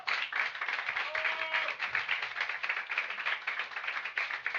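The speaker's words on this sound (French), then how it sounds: "Merci beaucoup messieurs, félicitations, on peut les applaudir." Audience applauding the guest musicians at a dub music evening, a soft, even patter of many hands clapping, fairly distant and steady throughout.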